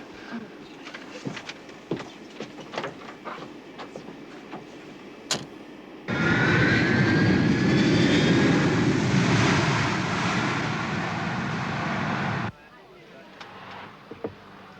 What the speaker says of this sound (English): Please don't unfasten your seatbelt, sir, until the plane stops.